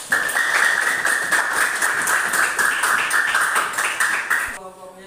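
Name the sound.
classroom clapping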